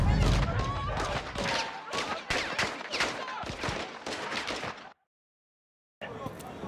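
Heavy Call of Duty: Modern Warfare II campaign gunfire, with dense rapid bursts crackling over about five seconds, then a sudden silence and a renewed volley, loud and close.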